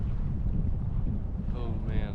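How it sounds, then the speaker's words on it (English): Steady wind gusts buffeting the microphone beside a lake on a backpacking trip, a continuous loud rush with a brief faint voice near the end. "Now it's windy."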